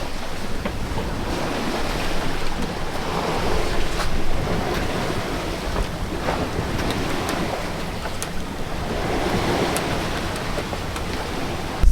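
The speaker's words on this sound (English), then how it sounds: "Waves are really close together, so we're kind of bashing into them" Waves slap and rush steadily against a sailboat hull as the boat bashes through short, closely spaced seas with the engine off, with wind buffeting the microphone throughout.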